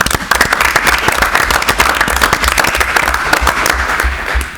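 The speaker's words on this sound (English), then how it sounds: "So I'd like to give you guys a round of applause." An audience at a school board of education meeting breaks into loud, dense applause, many hands clapping steadily and close for several seconds, with almost no talk.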